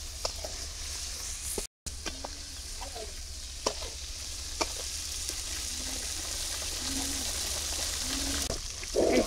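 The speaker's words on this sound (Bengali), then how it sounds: "এই যে পেডা আর ফুলকা আমার ভাজা হয়ে গেছে" Fish roe and swim bladder from hilsa frying with turmeric and salt in a pan, a steady sizzle with repeated stirring clicks and scrapes, plus a faint bird call in the background.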